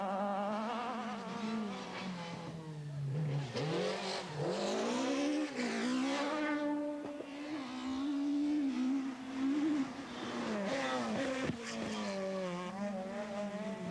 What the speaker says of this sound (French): Van der Moer placera sa 306 Maxi devant la Mégane de Prinsen pour une trentaine de secondes.